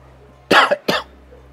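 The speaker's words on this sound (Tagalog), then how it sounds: "Kaya inuubo tayo." A person coughs twice in quick succession, close and fairly loud, over a quiet room with a low steady hum, at a phone repair bench in cold weather.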